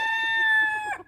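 A rooster crowing on a small backyard flock, one long, loud, close, sustained cock-a-doodle-doo with a clear harmonic tone that breaks off sharply at the end.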